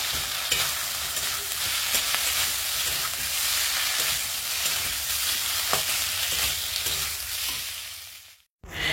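A ground spice paste frying in a pan, a loud close sizzle with stirring scrapes and occasional clacks that cuts off abruptly near the end, with no voices.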